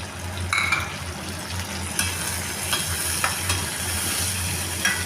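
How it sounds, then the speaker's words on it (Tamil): Onion, garlic and tomato sauté in a pan for a garlic gravy, a steady close sizzle with occasional soft stirring scrapes against the pan. "இது நல்லா வதங்கி வரட்டும் ஒரு 2 நிமிஷம்."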